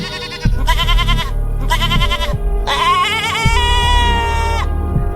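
A cartoon goat bleats loudly in several repeated, wavering cries, close and prominent, with short gaps between calls and no speech.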